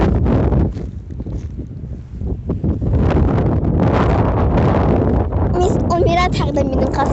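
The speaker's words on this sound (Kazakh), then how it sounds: "Қазір мұнда жел болып жатыр." Strong wind buffets the microphone in gusty broadband roars, dipping briefly then surging again, with a voice talking over it near the end.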